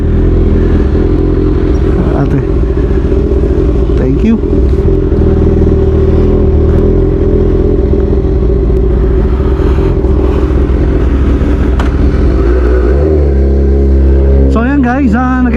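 A CFMoto motorcycle cruises on an expressway with a loud, steady engine drone and wind rumble throughout, and the rider speaks briefly over the noise.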